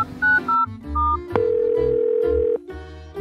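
Electronic tones from a phone placing a video call, a few short beeps followed by a long sustained ringing tone and then a softer follow-up, loud and close with no talking.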